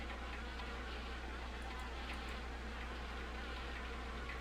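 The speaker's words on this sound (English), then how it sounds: "The overhang is perfect nesting for wasps." Wasps buzz around an old car by an abandoned house in the PC game Harvester, a steady, faint droning hum over a constant low background tone, with no speech.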